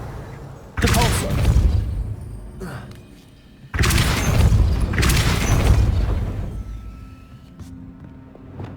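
The Depulso spell from the video game Hogwarts Legacy is cast twice, each a sudden loud booming blast with a crackling burst that rings out and slowly decays.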